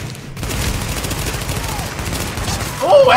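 Sustained automatic gunfire in The Division, steady and loud, a continuous rattle of shots across the whole span, with a brief sharper burst at the end.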